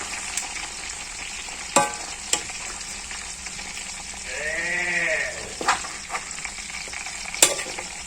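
A whole chicken fries in a generous amount of oil, about a litre, giving a steady low sizzle with a few sharp utensil clinks and a brief bleating-like animal call partway through.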